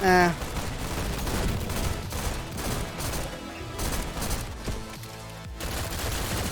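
Burst rifle firing in the shooter game GTTOD (Get To The Orange Door), dense rapid gunfire running continuously at steady loudness through the clip, with a brief bright tone at the start.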